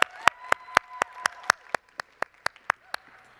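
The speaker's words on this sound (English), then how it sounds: "Let's give her a round of applause," Single sharp claps at an awards show, twelve or so evenly spaced in a slow steady rhythm, fairly close and moderately loud, fading slightly toward the end with no talk over them.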